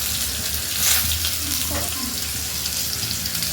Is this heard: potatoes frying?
yes